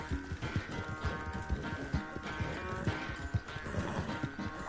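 Galloping horse hooves clip-clop steadily while riding through a forest in Red Dead Redemption 2, with a brief whinny, heard up close under continuous in-game ambience.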